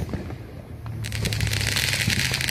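Fourth of July fireworks crackle and sizzle in a dense, continuous burst that starts abruptly and continues at moderate distance over low background rumble.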